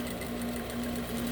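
A sewing machine runs steadily while topstitching the waistband area of trousers being let out at the waist and hips, a continuous close hum with no pauses.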